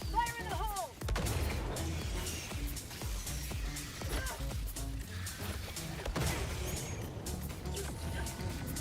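Grenade blasts in the video game Helldivers 2, several heavy booming explosions and crashes spread across the stretch amid ongoing game effects, loud and close, with no speech over them.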